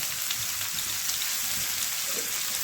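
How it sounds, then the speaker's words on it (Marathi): Crushed garlic crackles in hot tempering oil as a soft, even, rain-like sizzle throughout, fairly quiet and with no talking. "टेचलेला थोडासा लसूणचं फोडणीला टाकायचं"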